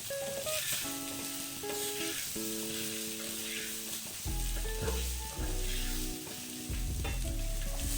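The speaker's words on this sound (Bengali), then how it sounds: "এই যে মশলাটা দিয়ে তেল ছাড়তে শুরু করেছে" Kashmiri aloo dum spice paste sizzles and spits in hot oil, a steady frying hiss under soft background music, with no voices.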